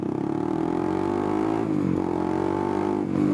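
A carbureted 150cc single-cylinder Honda CBR 150 motorcycle engine idles close by, its pitch rising slightly with a light blip of throttle, steady and uneven.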